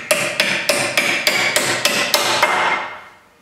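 Hammer tapping cover caps onto an aluminium joystick stand, nine evenly spaced sharp metallic knocks, close and loud, ringing out briefly after the last strike.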